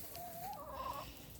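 Chickens scratching at thrown-down compost in a fall garden give a single drawn-out, rising cluck-like call, moderately close over steady outdoor background noise.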